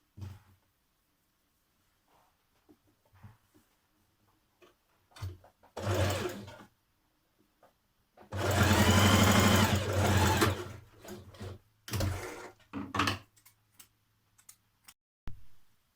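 Sewing machine stitching along the bottom edge of a trouser pocket, heard in short bursts of rapid needle chatter with one longer run in the middle, separated by quiet pauses and small clicks.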